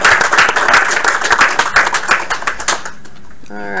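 A room of people applauds to mark a first milestone, loud close hand claps in a brisk flurry that thins out and fades over the final second.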